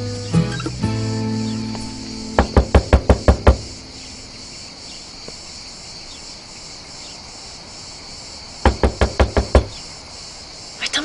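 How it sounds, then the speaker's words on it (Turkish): Two bursts of rapid knocking on a door, each a quick run of about six sharp raps several seconds apart, set against a constant chirping of crickets in the background. "Çalın kapıyı."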